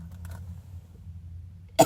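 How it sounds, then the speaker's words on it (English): A low steady hum, then one sharp, short allergy cough bursts out at the very end. "I need to cough."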